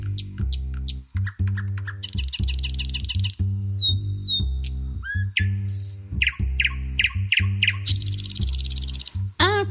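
A nightingale sings a loud, varied song full of rapid trills and whistled notes over a steady low droning tone.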